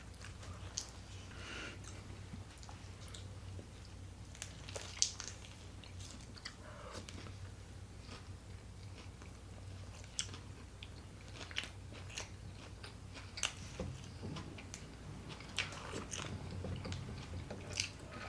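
Someone eats Panera mac and cheese with soft, repeated chewing and occasional small crunchy bites, close and quiet against a low hum.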